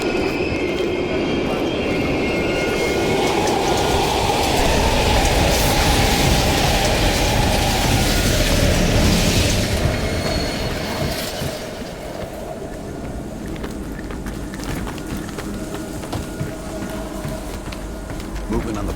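A train in the Black Ops Cold War video game rolls through an abandoned East German station with a loud, sustained rushing rumble and metallic clatter that fades slightly toward the end. Game music or ambience runs underneath.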